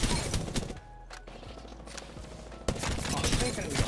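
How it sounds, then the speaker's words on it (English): Rapid burst fire from a Prowler SMG in the Apex Legends video game, a dense rattling stream of shots that drops away briefly and then resumes loud and close, mixed with game noise. "It sounds like a minigun."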